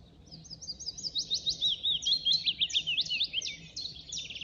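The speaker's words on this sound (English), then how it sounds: "There's a lovely little fluty whistle, sort of descending, slightly sad sounding" A male willow warbler sings high in a treetop in Hembury woods at dawn in May, giving a sweet, fluty phrase that descends steadily, clear and moderately close over a quiet background.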